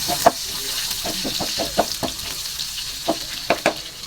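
Garlic fries in oil in a pan for adobo, a steady bright sizzle punctuated by a series of sharp spatters and clicks from stirring, loud and close with no talk.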